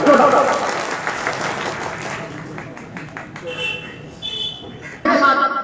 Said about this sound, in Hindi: हम उनका सब एक साथ सभी मिलकर जोरदार तालियों के साथ स्वागत करते हैं